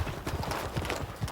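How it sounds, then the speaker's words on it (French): Horse hooves clip-clop in a quick, uneven rhythm on the ground at a pony club riding lesson, close and fairly clear. "regardez comment passe le cheval dessous"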